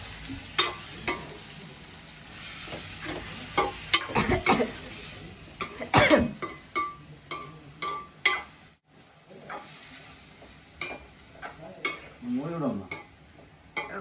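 Ingredients are sautéed in a pan with a spatula, producing irregular scrapes and clinks over a low sizzle. A person coughs once near the middle.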